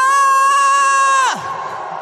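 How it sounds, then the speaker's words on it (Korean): A loud amplified shout of 'wah' at a political protest rally is held for about a second, joined by the crowd, then cuts off into a rougher, lower crowd noise. "우리 저 소음이 들리지 않게 함성 한번 질러볼까요?"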